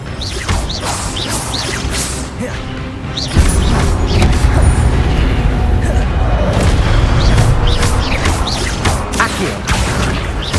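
Spell combat in Hogwarts Legacy with an Expelliarmus disarming charm: a loud, dense mix of magical booms, whooshes and crashes that swells midway and stays heavy, with a voice briefly calling out spells.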